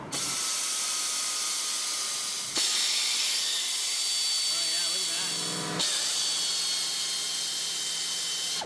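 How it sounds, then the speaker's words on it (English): A steady, loud high-pitched whir of a drill boring a small hole into a broken exhaust manifold bolt runs throughout, briefly dipping twice as the bit bites and restarts. "we're going to do is drill this small hole first"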